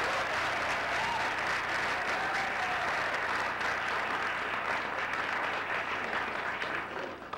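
An audience at a city council meeting applauds and cheers, a dense, steady wash of clapping from a crowd that carries on throughout and fades slightly at the end.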